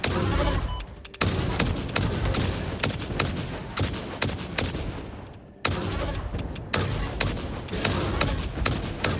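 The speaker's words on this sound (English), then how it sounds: "Yeah, I don't know about this turbo rifle ammo." Turbo rifle ammo firing in Satisfactory: loud, rapid shots in steady bursts, with a short pause partway through, then sustained fire again.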